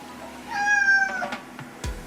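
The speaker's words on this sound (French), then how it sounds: "c'est mon chat, Jessie." A pet cat in an American home gives one clear, close meow lasting about half a second, followed by a few soft clicks and a short thump.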